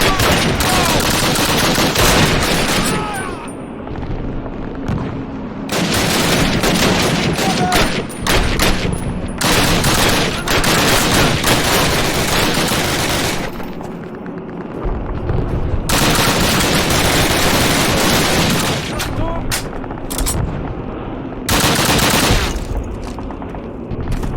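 Heavy gunfire in the Call of Duty video game: dense, loud bursts of automatic fire and rapid shots pound almost continuously, broken by short lulls, with booming impacts mixed in.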